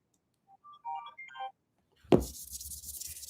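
A phone ringtone plays a short melodic phrase, followed by a loud thunk and handling noise as the phone is picked up.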